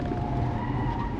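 Audi RS 6 Avant braking hard, its tires skidding and squealing against a continuous loud road and engine noise, brief and close with no voices.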